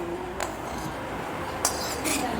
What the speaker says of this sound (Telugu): ఇప్పుడు ఇదంతా మొత్తం కలిపేసుకోవాలి